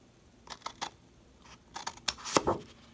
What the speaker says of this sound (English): what we're going to do is just make a cut from the point to the second score line